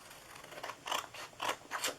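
Scissors snip through cardboard for a large bakery box, giving four crisp, fairly quiet cuts in an even rhythm, each a short rasping crunch with brief pauses between.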